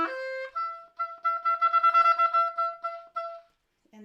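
Oboe imitating a wood thrush call: a held opening note, then a run of quick, stuttering repeated notes with trill-like flutters, moderately loud and fading to a brief low note at the end.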